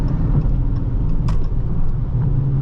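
A 2021 Dodge Charger R/T with a ZF8 transmission gives a steady low exhaust and engine rumble from inside the car while driving, continuous and fairly loud with slight fluctuations.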